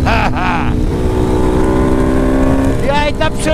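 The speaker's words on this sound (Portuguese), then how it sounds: "Escapamento!" A motorcycle exhaust roars and revs loudly and continuously, with voices briefly audible near the start and end.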